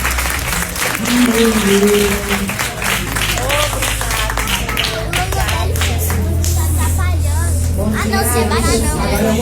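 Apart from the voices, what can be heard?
congregation applauding in church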